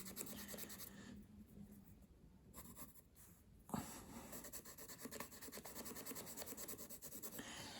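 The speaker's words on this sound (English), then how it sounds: "just very lightly shading. Focus on the angle of the pencil that you're holding and the pressure you're applying" Pencil lightly shading on paper, a soft continuous rubbing scratch that runs steadily through the clip with a brief quieter gap, close and faint with no voices.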